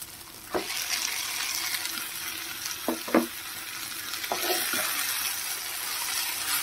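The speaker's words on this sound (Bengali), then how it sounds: "মশলার সাথে ভালো করে নাড়িয়ে চাড়িয়ে নেব।" Grated paneer is stirred into sizzling masala in a wok, a steady frying hiss punctuated by a few scraping clinks of the spatula against the metal, close and moderately quiet.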